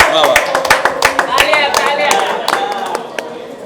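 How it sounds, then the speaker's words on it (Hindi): Audience clapping at a Netaji Subhash Chandra Bose Nobel Peace Award 2022 ceremony, a dense run of sharp hand claps that is loud and close at first, then thins out toward the end, with a voice faintly underneath. "सबसे पहले बॉलीवुड अड्डा दलवंदर के लिए एक बार तालियां हो जाए"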